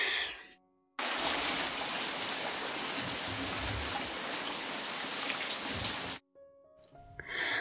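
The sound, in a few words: light drizzle of rain outside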